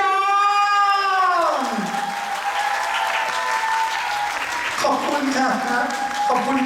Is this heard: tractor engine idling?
no